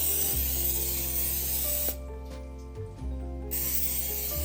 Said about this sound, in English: Go ahead and spray our baking dish here. We want to make sure it's nice and greased.